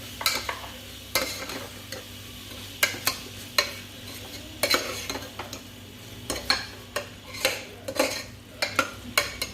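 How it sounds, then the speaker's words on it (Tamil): Mushroom biryani masala with mint and coriander being stirred in a pan for Chettinad-style mushroom biryani, a spatula scraping and knocking against the metal in a steady, repeated rhythm over a soft sizzle. "சேர்த்து நல்லா கிண்டி விடுங்க"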